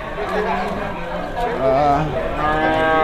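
A Simmental cow moos in drawn-out calls at the Rogojampi cattle market in Banyuwangi, East Java, over steady background chatter from people nearby, with the lowing rising toward the end.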